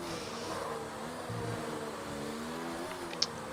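F1 2019 race car engine in a video game, heard on the Mexico circuit with a steady high-pitched drone that climbs through the gears, the pitch dipping briefly at a shift, loud and close with no talk.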